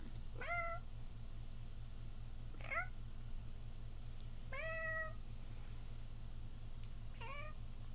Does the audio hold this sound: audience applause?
no